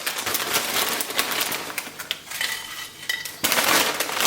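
Tortilla chips laid out by hand onto a dish for nachos, giving a steady run of close, dry crinkly clatter and light clinks, with a brief lull before the rustling picks up louder again.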